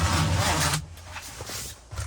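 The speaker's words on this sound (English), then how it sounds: "when you unzip this thing" A zipper being unzipped on the fabric cover of a Go Fast Camper, one steady loud pull lasting under a second, followed by quieter rustling and handling of the material.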